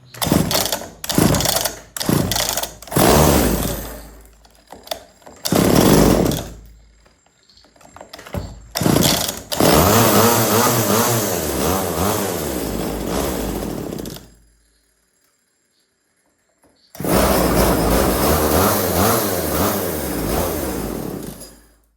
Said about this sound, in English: Pull the choke, turn on the switch, and then pull the cord.